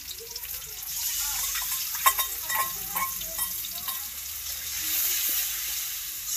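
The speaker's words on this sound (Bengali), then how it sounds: "পেঁয়াজ ভাজা ভাজা হয়ে গেছে, মানে হলুদ লবণ মরিচের গুঁড়া দিয়ে নিতেছি" Fried onions sizzling in a pan with turmeric, salt and chili powder stirred in, a steady close frying hiss broken by clicks and scrapes of stirring, no talking.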